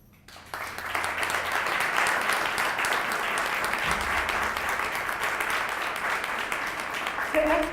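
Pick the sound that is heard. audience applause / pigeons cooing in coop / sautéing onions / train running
audience applause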